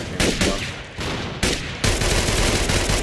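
Enemy gunfire in Fallout 4 near a .45 Enfield MP-45 machine pistol, loud rapid bursts that start and stop several times, then a sustained rattling volley to the end, with no talk.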